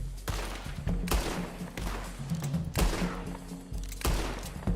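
Old cowboy-era guns firing in Red Dead Redemption Online: four loud, booming shots spaced about a second or more apart, each ringing out close with a rumbling tail and reverberation between blasts.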